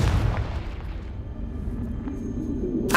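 A Confringo spell explosion in Hogwarts Legacy sets off a booming blast that rumbles and fades over a few seconds, with a low roar and a faint later crackle.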